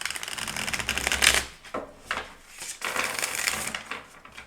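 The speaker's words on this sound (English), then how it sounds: "I feel that I need to shuffle here." Tarot cards being shuffled by hand, soft papery riffling bursts in two or three uneven rounds, close and fairly quiet with no talk.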